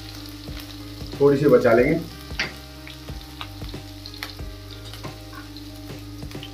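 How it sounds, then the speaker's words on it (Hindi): Green chili, grated ginger and asafoetida hit hot oil in a pan with a sudden loud sizzling burst that fades into quieter crackling and light stirring clicks, while a voice speaks briefly. "थोड़ा सा स्टर करेंगे"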